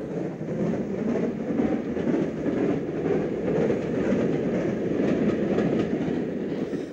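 A double-headed steam locomotive special rumbles past in a continuous roar, with a rolling rhythmic clatter and no voices. The sound is steady and moderately loud.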